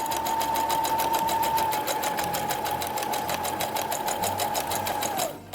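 A sewing machine top stitches a pocket on a Star Wars jumpsuit, running with a loud, fast, even mechanical chatter close by for several seconds before stopping abruptly.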